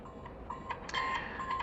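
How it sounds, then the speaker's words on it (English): A prototype smart smoke detector sounds its alarm, repeating short, fairly faint electronic beeps in a steady pattern over low background hiss. "you can hear the beep, beep, beep of the alarm"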